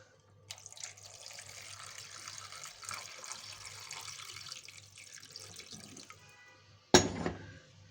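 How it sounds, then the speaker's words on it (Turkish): Water pours steadily into a pot of meat-stuffed grape leaves for about six seconds, a soft close trickle that stops, followed by a brief sharp clatter near the end. "Suyumuzu da koyalım."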